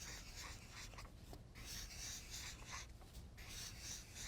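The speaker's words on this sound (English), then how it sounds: "Do you hear the marker on the paper?" A marker drags across paper in smooth, repeated strokes as wavy lines are drawn, a soft close-up rubbing that swells and fades with each stroke.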